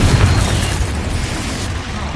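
Confringo blasting spell going off in a wizard video game, a loud, close, booming explosion that starts at full force and rumbles on as it slowly fades.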